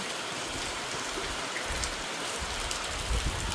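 Steady rain pours down close by, a dense continuous patter with occasional heavier drops.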